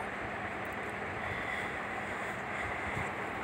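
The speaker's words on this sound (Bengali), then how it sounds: "এখন দুধটা দেখো ফুটে উঠেছে। এখন আমি এখানে পটলগুলো দিয়ে দেব।" Milk gravy simmering at a boil in a pan with pointed gourd, a steady broadband bubbling hiss that stays even and continuous with no voices.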